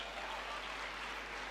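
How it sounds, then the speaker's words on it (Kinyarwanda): A church congregation applauding during a sermon: soft, dense clapping heard from a distance, steady and faint throughout the short moment with no voices over it. "Mumukomera amashyi wazutse."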